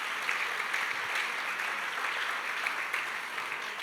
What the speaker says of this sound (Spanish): dele un aplauso fuerte a Jesucristo